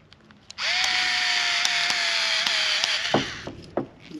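A small Milwaukee cordless power tool runs in one steady high-pitched whine for about two and a half seconds while tightening a fitting during a Tesla charging plug installation, then spins down with a few clicks and knocks.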